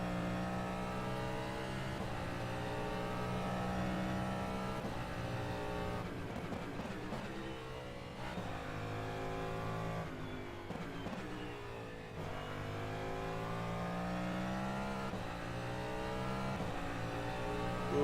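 Cadillac DPi prototype race car engine in rFactor 2 qualifying, a steady loud harmonic drone that climbs and drops through gear changes, with pitch sweeps as the car brakes and accelerates, heard alone without talk.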